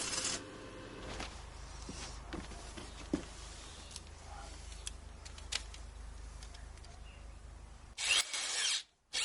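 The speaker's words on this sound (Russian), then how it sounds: "Никакие сверла, которые были в моем расположении, не хотели его сверлить." A power drill strains against very hard metal plates while building a fence, a thin, steady whine broken by scattered ticks and knocks, then a louder burst of drilling near the end.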